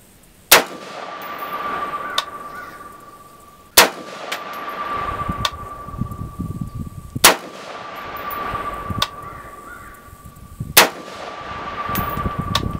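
A rifle fires 55 grain full metal jacket ammunition, four sharp reports spaced a few seconds apart, each followed by a lingering metallic ring, with quieter rustling between shots.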